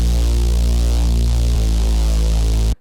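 Deep synth reese bass with processing, one sustained heavy low tone with a thick, slowly shifting texture that drones for nearly three seconds, then cuts off abruptly.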